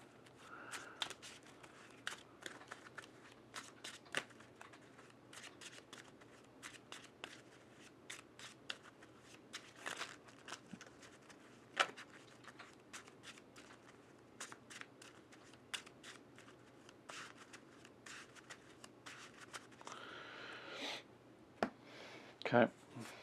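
Playing cards being shuffled during a Marvel Champions expert tabletop game, many quick crisp riffles and card slaps spread throughout, with a louder burst near the end and quiet talk at the table.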